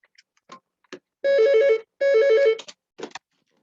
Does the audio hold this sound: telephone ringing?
yes